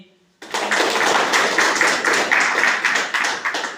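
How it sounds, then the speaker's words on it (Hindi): Applause from a village crowd for an election candidate at an outdoor campaign gathering, a dense steady patter of many hands starting abruptly after a brief quiet moment and holding fairly loud throughout. "इस बात पे जोर से ताली बजाइए सर के लिए"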